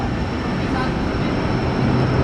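A locomotive shunting on track 3, a Parahyangan service bound for Pangandaran, gives a steady, loud, broadband rumble with low engine drone throughout, under continuous station ambience.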